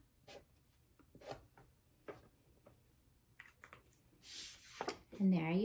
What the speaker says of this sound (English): And then I'm going to draw his antenna.